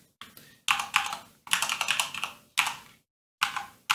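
Someone types on a computer keyboard in short bursts of quick, close key clicks separated by brief pauses, with no talking.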